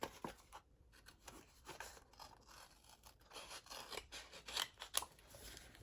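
Scissors snip and trim through chipboard album paper, a close series of quiet, crisp, irregular cuts and rasping slides with no talking.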